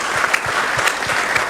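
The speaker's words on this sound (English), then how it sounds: "Big round of applause" Brisk applause from a conference audience at a tech discussion, many hands clapping together in a loud continuous patter with a few sharper individual claps standing out.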